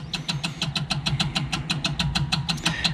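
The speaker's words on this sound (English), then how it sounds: "the pump is filling up the float bowl on the carburetor" Electric fuel pump on a 1961 Morris Minor pickup filling the carburetor float bowl, ticking in a steady fast rhythm of sharp clicks over a low hum, close and continuous with no talk.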